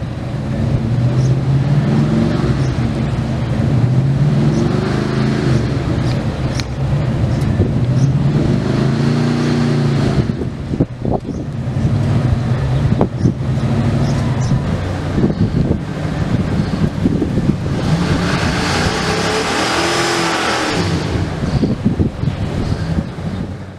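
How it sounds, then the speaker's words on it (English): An old 1986 Ford Bronco engine rumbles and revs unevenly to engage its gear, sounding rough, with gusts of wind noise buffeting the microphone throughout. "I need to rev the engine to get it to engage its gear. It sounds horrible."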